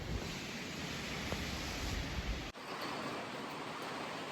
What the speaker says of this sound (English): It's now pouring the rain down